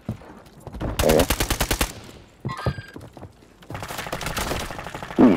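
Automatic gunfire in Call of Duty: a loud, rapid burst of evenly spaced shots, then a short metallic rattle and a second sustained volley, close and dominant with no talk over it.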